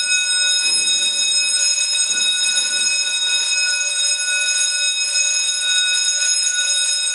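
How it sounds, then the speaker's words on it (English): A freight elevator's alarm bell at a shopping mall rings continuously and loudly for several seconds, a steady electric clang with no break, a little faint voice underneath. "There's the alarm bell."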